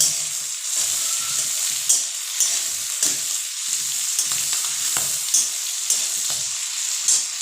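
Onion frying in a pan for fried rice, a loud, dense sizzle close by with rhythmic stirring scrapes recurring every second or so, no voices.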